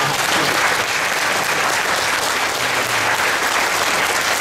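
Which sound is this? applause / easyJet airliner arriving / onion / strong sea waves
applause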